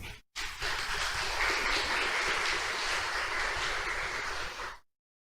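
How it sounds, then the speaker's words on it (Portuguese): Church congregation breaks into sustained applause after a call to praise, a dense even clapping wash lasting about four and a half seconds before stopping abruptly. "Dê um aplauso para Jesus."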